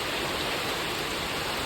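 Heavy rain pours down in a dense, constant roar that fills the whole stretch evenly, loud and close, with no voices.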